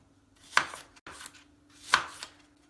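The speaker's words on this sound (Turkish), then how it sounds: "Sonra şimdi ufak ufak böleceksiniz." Knife strikes against a cutting board, a few sharp chops spaced unevenly as an apple is cut into small pieces, close and clear with no talk.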